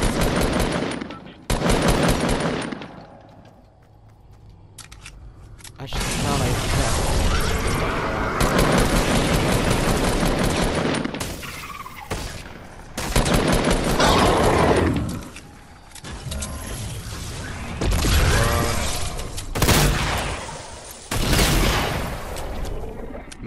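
Rapid automatic gunfire from a minigun in the video game Fortnite, loud sustained bursts with booms and heavy sound effects, broken by short pauses across the stretch.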